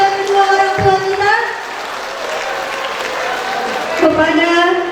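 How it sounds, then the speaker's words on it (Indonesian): An audience applauds in a steady, continuous wash of clapping while a voice speaks over it, the clapping swelling slightly toward the end. "Boleh kita berikan tepuk tangan apresiasi yang sebesar-besarnya kepada kedua orang tua kita"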